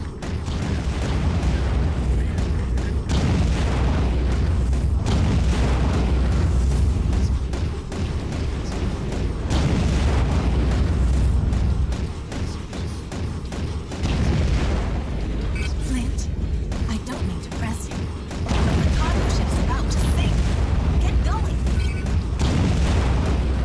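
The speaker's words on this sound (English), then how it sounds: "He can't take the wreckage bombardment much longer." Continuous heavy booms and rumbling explosions from wreckage bombardment in the underwater video game Aquanox, loud and dense throughout, with voices talking over the din.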